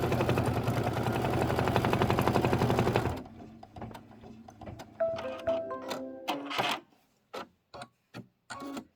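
An embroidery machine stitches a tack-down on fabric, its fast, rhythmic needle chatter loud and close for about three seconds, then stopping and giving way to scattered clicks and short mechanical bursts.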